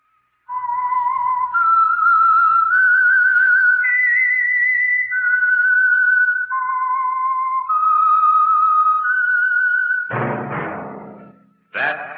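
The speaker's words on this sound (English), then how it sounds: "That whistle is your signal for the Signal Oil Program, The Whistler." A lone whistled melody, the theme signal of The Whistler radio show, rises and falls in sustained clear notes for about ten seconds, followed by a brief burst of orchestral music.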